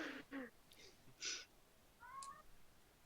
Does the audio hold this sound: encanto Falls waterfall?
no